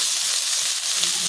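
Chopped dhenki greens hit a pan of already fried red shrimp and are stirred, giving a steady, close, bright sizzle with soft hiss that holds evenly throughout without pause.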